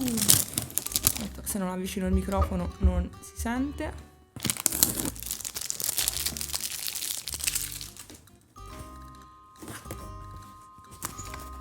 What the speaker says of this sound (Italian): Apriamo subito questo pacco insieme.